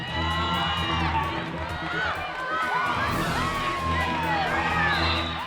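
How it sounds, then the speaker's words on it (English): Wrestling match crowd cheering and whooping steadily throughout, with excited shouts and voices rising over a continuous roar of noise at close range. "The crowd's liking it"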